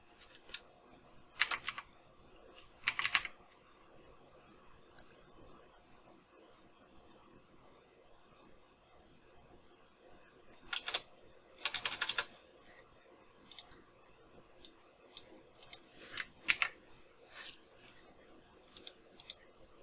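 Code is typed on a computer keyboard in short irregular bursts of crisp close key clicks separated by long quiet gaps, with a quick flurry of keystrokes near the end.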